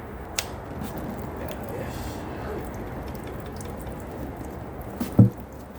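Fluid from a Pontiac Firebird's LT1 V8 drains in a steady, noisy trickle onto the Opti distributor during a teardown. A faint thump comes near the end.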